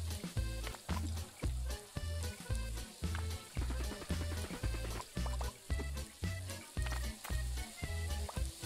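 Meat frying in the cooking video game Overcooked, a steady sizzle with a rhythmic, pulsing pattern of regular beats running throughout at moderate loudness, no talk over it.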